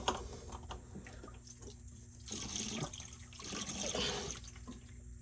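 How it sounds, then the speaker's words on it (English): Water and algae gush out of a clogged A/C condensate drain line during a service call, a fairly quiet gurgling, flushing rush that swells in bursts over steady background hum. "You can actually hear it sounds like a toilet flushing."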